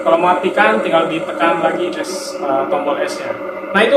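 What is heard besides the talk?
No everyday noise stands out behind the speech.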